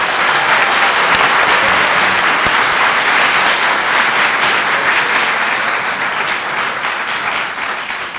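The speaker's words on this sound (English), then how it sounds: "Let's give them a big round of applause." Sustained, dense applause from a school audience honoring spelling bee contestants at a division competition, loud and steady throughout before tapering slightly near the end.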